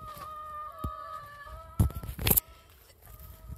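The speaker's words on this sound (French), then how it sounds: "Il y a des poules." Chickens clucking nearby, a few sharp squawks and clucks over a faint steady tonal hum, with brief bumps of handling noise.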